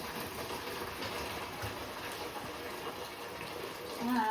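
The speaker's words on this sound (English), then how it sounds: "So I'm going to pour in my water in here." Water poured from a kettle into a floor-wash bucket, a steady close pouring and splashing that runs unbroken for several seconds and swells slightly at the end.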